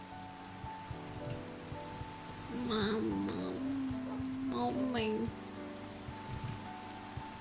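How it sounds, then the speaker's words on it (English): Rain falls in a Minecraft world, a soft steady hiss throughout, with a sheep-like bleat and a voice calling briefly over it and faint tapping clicks. "And it's raining."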